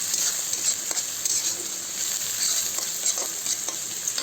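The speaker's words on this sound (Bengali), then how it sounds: "তো পেঁয়াজটা লাল হয়ে আসুক আবার আসবে পেঁয়াজটা লাল লাল হয়ে আসছে" Onions frying in a pan, a continuous close sizzle with light scraping stirs throughout, steady and fairly loud with no voices.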